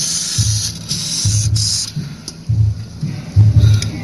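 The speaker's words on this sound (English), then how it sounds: "We're first gonna spray it with some WD-40." WD-40 sprayed from an aerosol can onto bolts under a GMC S15 Jimmy, several short bright hissing bursts separated by pauses, with low thumps and rustling between.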